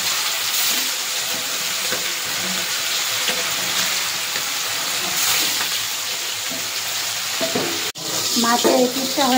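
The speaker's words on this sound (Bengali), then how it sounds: "কড়াইতে তেল দিয়ে দেবো, মাছটা ভেজে নেব" Fish sizzles in hot mustard oil in a wok, a constant crackling fry close by, then a sudden clatter and a burst of louder spattering near the end.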